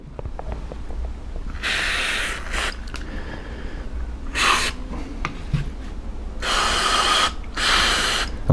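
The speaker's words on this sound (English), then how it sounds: "Carb cleaner here, which I'm going to spray into all the holes." Several bursts of aerosol carb cleaner hiss in short blasts into a Tohatsu 9.8hp two-stroke outboard, a pair in the middle and longer bursts near the end, with quiet clicks between.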